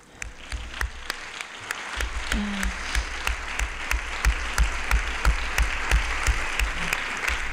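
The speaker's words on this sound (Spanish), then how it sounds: "Aplauso para las mujeres." An audience at a healthcare gathering claps in unison, sharp rhythmic beats falling roughly three times a second over a bed of scattered applause, growing a little louder as it continues.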